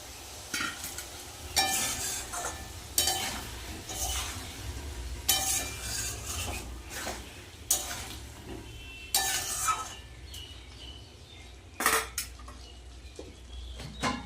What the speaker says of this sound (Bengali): এঁচোড় আলু মশলাটার সাথে ভালো করে কষিয়ে নেব